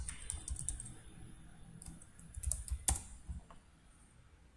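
Numbers are typed on a computer keyboard, a faint close run of light key clicks in short uneven bursts with a sharper tap near the end, no talking.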